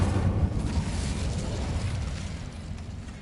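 Incendio fire spell cast in Hogwarts Legacy, a broad roaring burst of flame that swells at once and holds as a steady whooshing rumble, gradually fading over a few seconds, with no talk.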